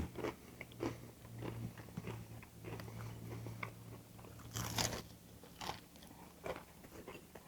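Crisp, crunchy bites and chewing on an extra crispy fried chicken wing with hot sauce, close and loud, several distinct crunches spread through the stretch with a steady low hum underneath.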